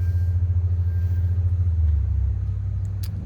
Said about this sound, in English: Car purrs like a kid.